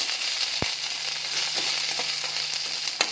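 Five or six dried red chillies frying in a pan for onion chutney: a steady, close hiss of sizzling with a single sharp click early on and faint stirring knocks, no voices.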